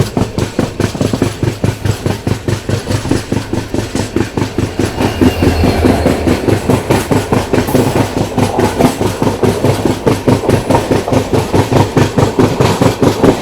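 The Golgumbaz Express rolls steadily along the rails, heard from a first AC coach, a rapid rhythmic clickety-clack of wheels over joints with a low rumbling engine drone underneath, loud and close throughout.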